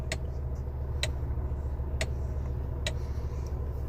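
A Jeep Compass steering column clicks when the wheel is turned from side to side: sharp, distinct knocks about once a second over a steady low engine hum, with no talking.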